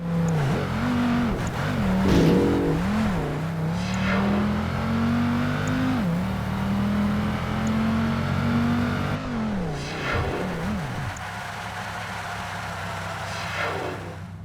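Race car engines from Project Gotham Racing 2 rev loudly and hold a rising, wavering drone, with gear-shift dips before settling to a quieter hum.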